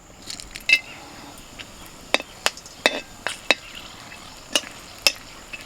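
Whole cardamom, cloves and cinnamon frying in mustard oil in a wok, heard as scattered sharp clicks, pops and stirring knocks over a faint, low sizzle, close and fairly quiet.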